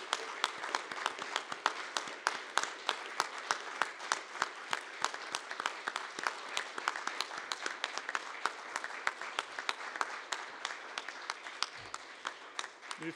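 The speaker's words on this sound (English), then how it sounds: "to stand up and give a big round applause to the graduate classes of 2020 and 2021." Applause for the graduating classes at a commencement ceremony at a business school in Switzerland: steady, sustained clapping from a crowd, moderately distant, continuing evenly throughout.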